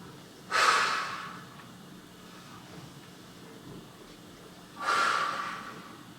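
Two deep audible breaths during a side bend exercise, each a loud airy rush lasting about a second, spaced roughly four seconds apart, close and clear with quiet between them.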